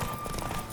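Horse hooves clip-clop at a quick pace in The Witcher 3, heard close and steady through a short burst with no voices over them.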